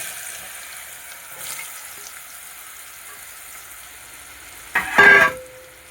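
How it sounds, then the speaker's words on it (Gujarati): Bottle gourd dropped into a hot tempering of asafoetida, curry leaves and cloves in a pan: a quiet background sizzle, then a sudden loud crackling burst near the end that quickly fades, no voices. "આ રીતનો આપણો વઘાર થઈ ગયો ને પછી એમાં નાખી દેવાનું દૂધી."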